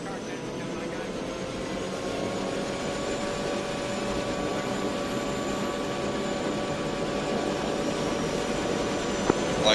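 Aircraft engines spool up before lift-off during a military detachment flight training session, a steady whining roar building slowly in intensity over the whole stretch, close and continuous.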